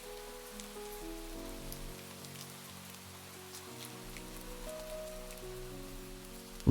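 Rain falls steadily as a soft, even hiss across the whole stretch, faint and distant beneath a quiet musical drone, with no voices.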